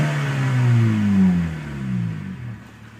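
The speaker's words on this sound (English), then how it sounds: "I'll go ahead and rev it up here for you so you can see how that works" Engine of a 1992 Honda Civic LX revving up close, pitch climbing then sliding down as it settles back toward idle, followed by a second smaller rev, with no voices.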